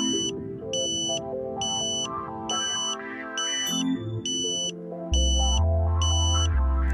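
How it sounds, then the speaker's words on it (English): A Ka-sat satellite dish alignment meter sounds its locking tone, a regular train of high electronic beeps repeating in even pulses over a murky low background, with a heavy low hum rising near the end. "You then hear the locking tone."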